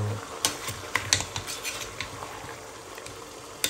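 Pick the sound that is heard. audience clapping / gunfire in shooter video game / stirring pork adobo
stirring pork adobo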